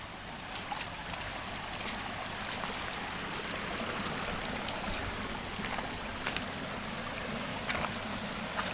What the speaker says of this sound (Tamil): எப்படி தண்ணி பாருங்கள் எவ்வளோ ஸ்பீடாக ஓடியிருக்கு பாருங்கள்